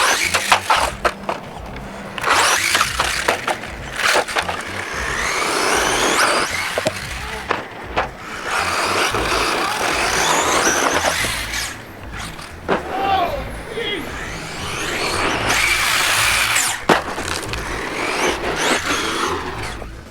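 An HPI Savage XS Flux RC car on 2S 7.4-volt power drives around, its electric motor whining and surging with bursts of acceleration and tire scuffing throughout. A voice talks over it intermittently.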